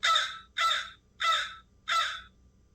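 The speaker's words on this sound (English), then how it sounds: "And there's your standard caw." Played-back recording of a crow giving its standard caw: four evenly spaced, harsh caws in a steady rhythm, clear and fairly close, no voices.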